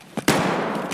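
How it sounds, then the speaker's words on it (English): A few sharp gunshots ring out in the video game Escape from Tarkov, with two quick cracks followed by a longer ringing tail and another shot a moment later. "We has gunfire."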